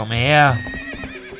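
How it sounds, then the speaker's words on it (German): A horse neighs loudly in the Zelda Twilight Princess video game, a rising whinny that dominates the first half before someone speaks over the fading end. "Ich brauche natürlich dafür mein Pferd."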